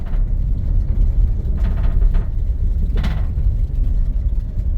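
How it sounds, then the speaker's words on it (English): A loose metal tray rattles in the back of a 2018 twin-turbo 3.5L EcoBoost truck on a dirt road, giving a few sharp clattering bursts over a steady low road and engine rumble. "That's just a metal tray back there making some noise."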